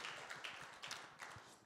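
A church congregation gives a faint, distant round of applause, a steady patter of many hands clapping at once after a prayer.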